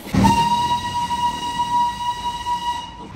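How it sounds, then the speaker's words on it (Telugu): The Darjeeling toy train sounds one long, steady whistle lasting nearly three seconds over a low rumble of the running train, loud and close. "డార్జిలింగ్లో చూడండి టాయ్ ట్రైన్ జర్నీ ఎక్స్పీరియన్స్ అయితే మాత్రం క్రేజీగా అయితే ఉంది"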